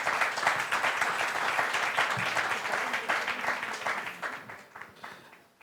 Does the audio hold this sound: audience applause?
yes